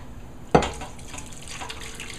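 Liquid pours over shredded chicken in a crock pot, one short splash followed by a quieter, brief trickle and faint background hum.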